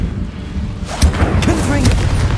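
An Incendio fire spell bursts in Hogwarts Legacy, a sharp whooshing blast about a second in, followed by roaring flame and rumbling game sound.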